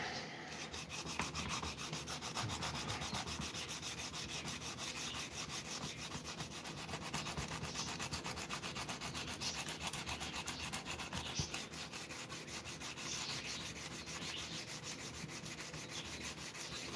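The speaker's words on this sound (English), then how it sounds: "I'm not sanding it that hard." Steady, continuous rubbing of sandpaper over wood, a dry scratchy rasp in quick back-and-forth strokes, close and moderately quiet.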